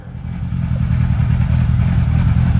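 A Hillman Imp with a 1150cc engine idling as it warms up, a loud, close, steady low mechanical drone with a faint rattle, running alone without speech.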